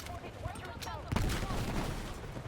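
Gunfire in the shooter video game Battlefield 6, a steady rattle of shots and bursts running continuously behind a player's talking.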